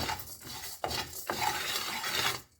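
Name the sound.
dry roasting cashews and rice in a pan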